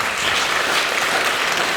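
Steady, loud audience applause at a charity fundraiser for children in Haiti, dense clapping sustained evenly throughout with no talk over it.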